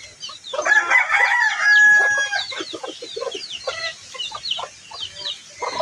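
Chickens clucking and a rooster crowing nearby, with a busy mix of bird calls continuing throughout.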